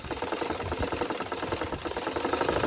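A portable sewing machine, just repaired after being stuck, runs steadily, its needle chattering in a fast, even rhythm at a moderate, close level.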